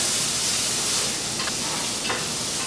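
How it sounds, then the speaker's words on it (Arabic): Zucchini spaghetti sautéing in a very hot pan, a loud continuous sizzle and hiss with a couple of brief scraping stirs, no talking. "وهو هيستوي ثواني لان الطاسه اوريدي سخنه جدا، بس بشوحها كده"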